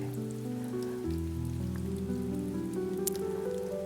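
Steady rain patters evenly throughout, a soft continuous wash sitting beneath gentle sustained music tones.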